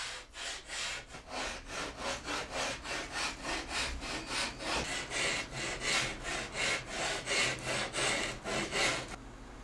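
Two glued wood pieces being hand-worked to thickness with a saw or rasp, a steady rhythmic back-and-forth scraping of about twenty strokes, close and alone.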